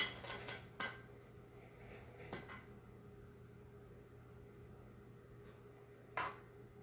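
A knife chops a peeled banana against the bottom of a pan, giving a few sharp clicks and taps at the start and again near the end. Light kitchen clatter sits between them in a quiet room.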